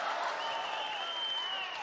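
A VALORANT Champions knockout crowd roars and applauds loudly after Demon One's ace for Evil Geniuses against EDward Gaming on Ascent. The cheering is dense, sustained and sweeping, with a commentator's voice faintly mixed in.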